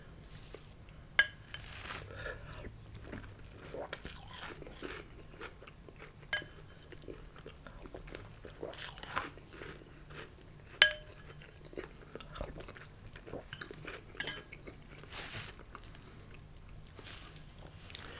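Trix breakfast cereal being chewed up close in a quiet room, with soft crunches and occasional sharp clinks of a spoon against a bowl in an irregular rhythm.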